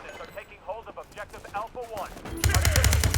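Beryl 762 rifle firing on full auto in World War 3, a loud rapid burst of shots arriving in the last second after someone talks.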